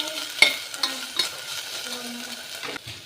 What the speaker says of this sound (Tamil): கொஞ்சம் வதக்கி விட்டுக்கோங்க.